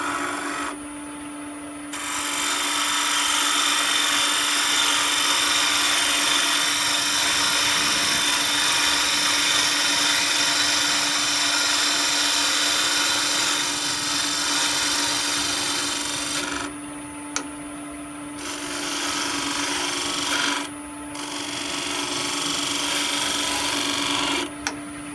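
Wood spins on a lathe while a spindle gouge smooths a small threaded trinket box, a continuous loud whirring hiss with a steady motor tone, broken by a few short pauses where the cut lifts off.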